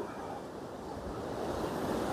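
Sea waves at Puri beach roll in as a continuous broad roar of surf mixed with wind buffeting the microphone, steady and fairly distant, with no voices.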